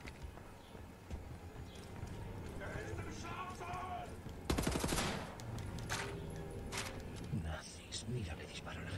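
Bursts of automatic gunfire from the video game Wolfenstein: The New Order erupt mid-sequence over steady game noise and hoof-like clatter, loud and close, with someone talking over the action.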